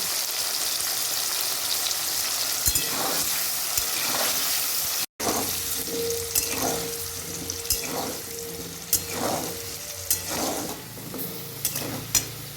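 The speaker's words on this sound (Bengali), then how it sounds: "দেখুন আলুগুলো লাল লাল করে ভেজে নিয়েছি।" Potato pieces fry in a pan over lowered heat, giving a continuous close sizzle broken by regular scraping stirs, with a brief cut-out midway.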